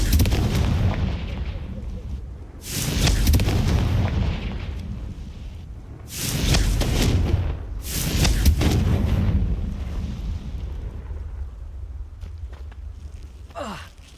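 Confringo fire spell explosions in the Hogwarts Legacy video game: three loud, heavy blasts go off a few seconds apart, each with a booming rumble and crackle. Quieter game ambience fills the gaps between them.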